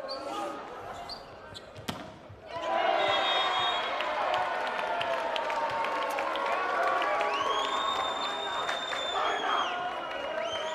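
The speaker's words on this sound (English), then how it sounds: "the crowd joins in with chanting for Waimea" A large crowd at a boys' volleyball final between Waimea and Rangitoto chants for Waimea. It swells into a loud, sustained roar of voices and cheering after a quieter, murmuring start.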